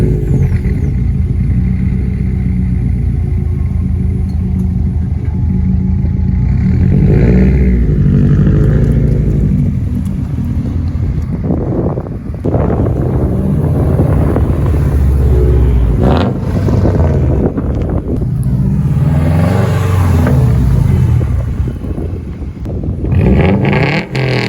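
Engine of a 2009 Subaru WRX with a loud turbo, revving hard while driving, with a few drops as the throttle lifts that may carry the blow-off valve's release, under steady road and wind roar inside the car.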